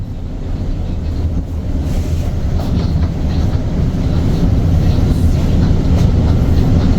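A double-decker train in Sydney rumbles steadily along the rails with a loud low-frequency roar and faint rhythmic clicks, heard from inside a carriage.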